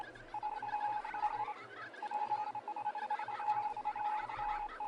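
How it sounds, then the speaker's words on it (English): A park notification chime in a park-building video game beeps in a steady Morse-code-like pattern of short and long tones, fairly loud and continuous, over faint background game ambience. "The park's notification then sounds like it's communicating in Morse code."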